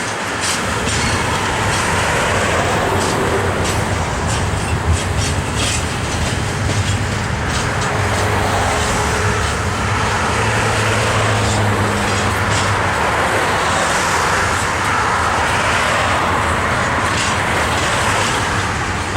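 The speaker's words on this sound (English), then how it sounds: "this train is just still coming" A CSX freight train rolling out of Pinoca Yard, a loud, continuous rumble of rail cars with faint rhythmic clatter of wheels and occasional squeal, sustained throughout at close range.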